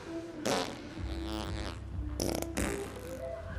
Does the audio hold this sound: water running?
no